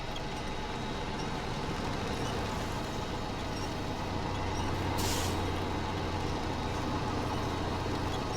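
In the Snowrunner video game, a truck's handbrake is released with a short, sharp hiss of air near the middle, set against a steady idling engine drone.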